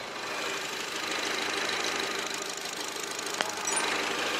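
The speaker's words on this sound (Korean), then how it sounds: "혼다 HR-V 차량의 엔진 소리 듣기 위해서 본넷까지 개방을 해봤습니다" A Honda HR-V's i-VTEC engine idles close by with the hood open, a steady, even mechanical hum and faint ticking, one small click near the end.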